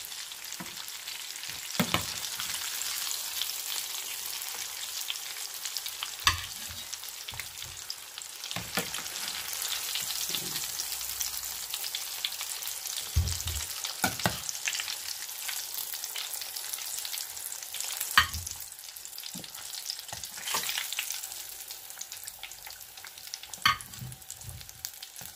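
Turkey and sliced-bread croquettes with small vegetables fry in hot oil with a continuous bubbling sizzle, broken by occasional sharp pops and utensil clinks, with no speech.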